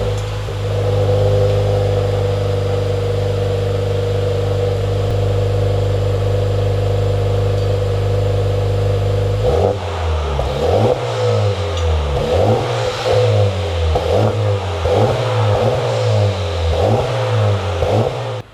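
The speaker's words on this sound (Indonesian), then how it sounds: "kita hidupin mobil dan kita dengar suaranya." A car engine idles with a steady low drone, then revs repeatedly through the exhaust in rhythmic rising roars, loud and close.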